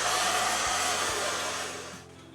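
Stick welding on preheated cast iron with nickel 55 rods, a steady loud broadband crackle and hiss running continuously, then tapering off near the end as the arc is broken.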